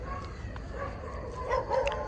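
Dogs bark close by at night in a Christian graveyard, a steady run of barks and yips over a constant hiss of background noise.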